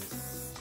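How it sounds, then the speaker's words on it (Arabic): Hairspray misted onto a loosened fringe while styling hair, a steady close hiss lasting under a second with no talk. "برش عليها سبراي"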